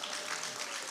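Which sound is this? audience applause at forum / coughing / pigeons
audience applause at forum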